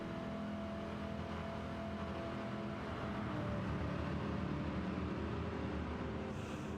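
A Dodge Challenger R/T engine in Forza Motorsport gives a steady, dense rumble that holds at a constant level for several seconds, swelling slightly near the end, alone and fairly quiet.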